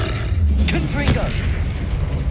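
Confringo fire spell explosion in the video game Hogwarts Legacy: heavy, roaring booms with deep rumbling low end, mixed with grunting game voices and a couple of sharper bursts midway.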